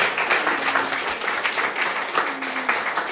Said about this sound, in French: Applaudissons au Seigneur pour glorifier notre Dieu encore.